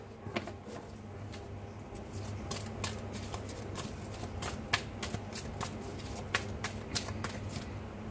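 Tarot cards are shuffled for a reading in a quiet room, a run of close, crisp riffling flicks and taps coming in irregular bursts.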